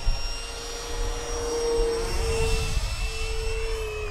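Electric ducted fan model jet, the FF-Viper-70 prototype, flying past with a loud steady whine and roar, the high tone shifting in pitch as it passes, with no talk.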